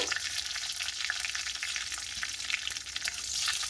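Neem leaves fry in hot oil in a pan, giving a steady bright sizzle with faint stirring scrapes and no talk.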